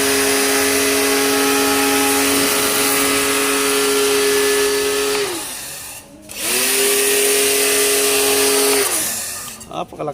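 A Kawasaki HPW220 pressure washer runs loud and close with a steady motor whine, cutting out briefly near the middle as the pump shuts off automatically, then restarting at full drone until a sputter at the end.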